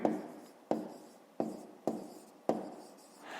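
Pen or pencil strokes on paper while working out a fifth-grade maths solution: five short scratchy bursts, each fading quickly, at a steady uneven rhythm, close and quiet, with no talking.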